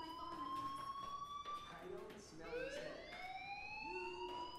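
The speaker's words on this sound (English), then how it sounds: "Hey, do you hear that fire alarm?" Fire alarm ringing in Life is Strange, a steady electronic wail with rising and falling pitch heard at moderate level throughout, with talk occurring alongside it.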